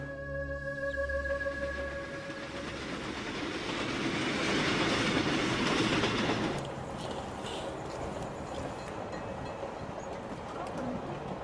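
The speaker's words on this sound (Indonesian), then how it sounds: "Saya dalam perjalanan bisnis naik kereta ekspres Jakarta-Jogja saat kereta tiba-tiba berhenti." Jakarta-Jogja express train running, a steady rolling rumble and rail noise that swells in the middle, with a sustained tonal hum fading early on.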